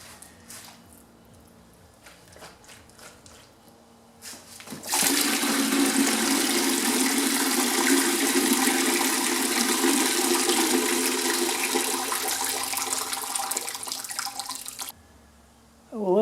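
Rinse water pours and gurgles out of a car battery during its final flush, a loud, steady rushing flow lasting about ten seconds, then cutting off abruptly after quieter handling noises.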